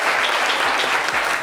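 A studio audience gives sustained applause for Chekina Yato on a French-language talk show, a steady, fairly close wash of many hands clapping with no clear speech over it.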